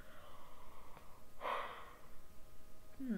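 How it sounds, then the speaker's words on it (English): A soft, drawn-out yawn with a breathy rush in the middle, quiet and close, with no talking. "Sorry I keep yawning."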